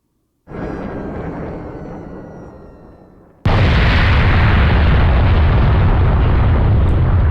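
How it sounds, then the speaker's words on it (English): Missiles roar overhead toward Japan above an overpass in Killer7, a loud rushing blast that swells in, fades slightly, then jumps to a sustained, heavier broadband roar for several seconds with no talk. "And Garcia and Mills watch the missiles go overhead towards Japan from the overpass."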